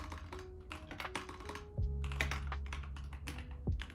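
Computer keyboard keys being typed on at close range, a quick irregular run of light taps and clacks with a few heavier thunks, continuing across the whole stretch.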